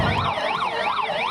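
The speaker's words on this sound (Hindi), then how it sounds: "सायरन बजाती दिल्ली की इस एम्बुलेंस में केवल अंजलि का पार्थिव शरीर ही नहीं जा रहा है" An ambulance siren wails in Delhi, its rising and falling tone sweeping in a fast, regular cycle about three times a second, loud and close with no talk.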